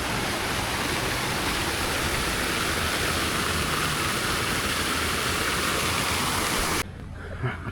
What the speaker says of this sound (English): These little waterfall things,